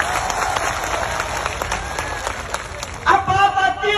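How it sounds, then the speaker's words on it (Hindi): A crowd at a mahapanchayat in Mewat, Nuh claps loudly and steadily for several seconds before a voice comes in over the fading applause. "एक बार जोरदार ताली बतानी तो इनके लिए बताओ"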